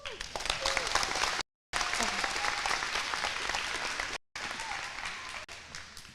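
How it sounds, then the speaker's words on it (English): Applause from a crowd at a high school graduation ceremony, a steady wash of clapping that runs through the moment with two brief dropouts, moderately loud and close. "give yourselves a round of applause"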